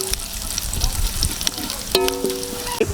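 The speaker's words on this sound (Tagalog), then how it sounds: "pagtapos natin gisa ng sibuyas, isunod natin yung laurel at saka paminta. Igisa natin para mabango." Onion, bay leaf and black pepper sauté in a hot pan, a steady close sizzle with light stirring scrapes, a person talking over the frying.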